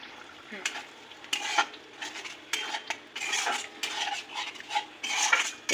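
A spoon stirs eggplant with spices, chili powder and sour yogurt in a pan, scraping and clinking against the metal in irregular bursts over a soft background sizzle.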